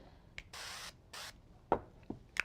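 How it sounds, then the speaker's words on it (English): Two short hissing bursts of cooking oil spray hit a casserole pan, each lasting about a third of a second, with faint handling clicks and knocks around them in a quiet kitchen. "we're just going to spray our pan"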